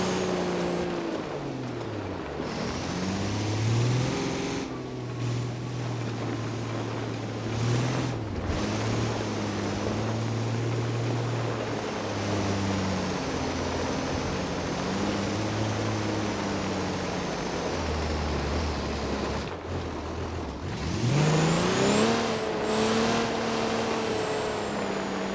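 Autobello Stambecco in the BeamNG.drive video game climbing uphill off-road in Johnson Valley, its engine droning steadily with pitch rising and falling as it revs and shifts, loud and continuous without talk.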